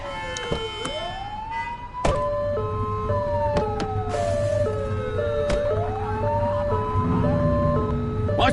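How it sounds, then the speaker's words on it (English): Police car siren in the video game The Precinct, a loud wailing sweep that switches to an alternating two-tone yelp, with a thump partway through and steady engine rumble beneath. "Turn that siren off."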